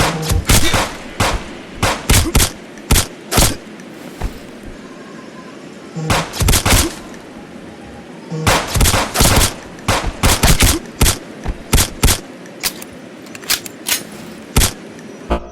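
Gunfire in a video game comes in sharp bursts and single shots, loud and close, clustered in irregular volleys with short gaps between them and no talk.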